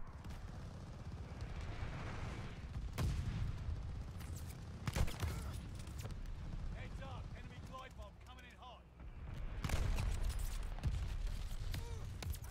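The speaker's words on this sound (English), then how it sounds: "Allies called a bombing run. Incoming." Explosions from a called-in bombing run and bursts of gunfire in a multiplayer shooter, heavy booms and rapid shots rolling through the whole stretch, with players talking over the action.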